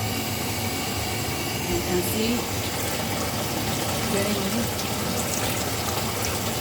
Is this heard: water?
yes